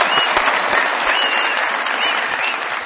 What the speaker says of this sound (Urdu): بہت ساری تالیاں جی